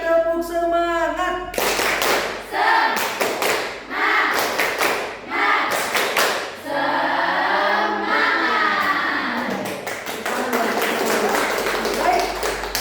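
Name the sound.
rhythmic group clapping chant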